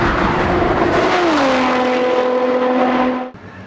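An HKS-tuned Nissan R35 GT-R with about 800 horsepower accelerates hard on the Fuji Speedway track, a loud, continuous engine roar that climbs steadily in pitch for about three seconds before abruptly cutting off.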